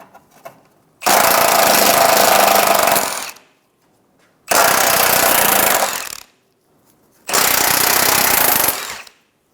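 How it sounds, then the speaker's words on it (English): An impact power tool rattling on the 14mm nut and bolts of a control arm bracket at the front subframe of a 2014-2019 Toyota Highlander, three loud close bursts of two to three seconds each separated by short pauses. "Remove the 14mm nut and the 2 14mm bolts out of the bracket that's going to the front subframe."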